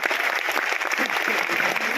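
An audience at a product launch event claps loudly in a dense, continuous burst of applause that fills the short stretch.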